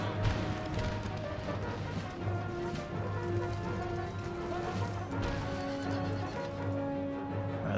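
Cavalry horses in the Empire: Total War video game neigh and whinny repeatedly over a dense, continuous rumble of galloping hooves, with crashes and battle clamor throughout a loud, busy soundscape.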